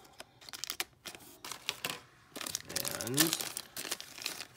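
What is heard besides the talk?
plastic bag being cut open with scissors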